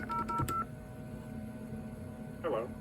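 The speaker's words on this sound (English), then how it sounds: "You just call your own number like you were dialing in originally." A phone number being dialed on a telephone keypad, producing a quick run of four or five DTMF beeps, then a short pause and a faint voicemail prompt voice.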